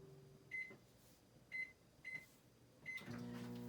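A microwave oven hums steadily during a heating cycle, with a low drone under several short, bright tones repeating at intervals and a door or latch clunk near the end; the room is quiet and no one speaks.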